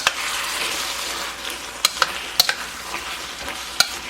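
Shrimp and beef sizzle in a stir-fry pan with a thickened broth, a steady close hiss of frying broken by several sharp scrapes and clinks of a utensil stirring.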